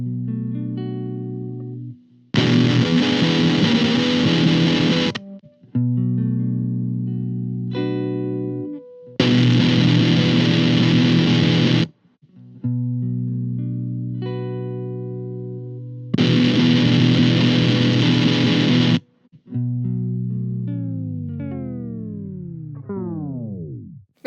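A Pedal Partners Violet Oscillation shoegaze fuzz pedal alternates between sustained harsh, noisy fuzz bursts and pitched, self-oscillating squeals, ending in a falling, sweeping whine, loud and without any talk.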